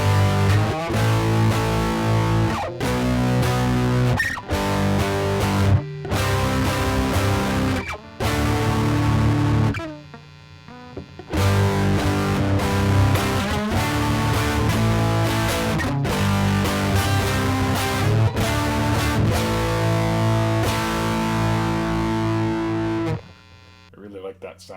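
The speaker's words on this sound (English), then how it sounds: "So let's crank up the distortion even more." Electric guitar through a distortion pedal with the gain cranked high, heavy saturated chords played in loud bursts with short gaps between them, ringing out at close range.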